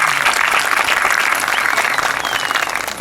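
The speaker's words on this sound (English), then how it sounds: "Let's give them a big round of applause again." Sustained, loud applause from a large audience at a high school graduation ceremony, dense clapping holding steady for the whole stretch without voices.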